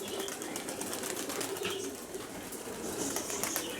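A flock of pigeons taking flight in a brisk breeze, a steady close rush of flapping wings with scattered cooing and bird calls running through the whole stretch, no voices.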